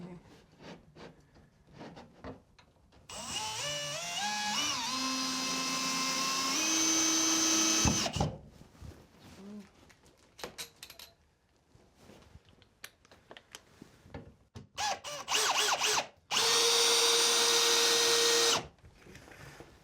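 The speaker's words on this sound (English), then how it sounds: "We're going to go almost all the way in, and then we're going to finish it with the ratcheting wrench." A powered nut driver and a ratcheting wrench tighten lag bolts for a Roku Pro Series TV wall mount: long rising whirs of the driver, then quick clicking ratchet strokes and handling noises, close up.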